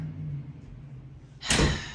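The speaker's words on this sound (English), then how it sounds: "Can you close the door?" A quiet room, then a single brief whooshing thump near the end as a door swings shut.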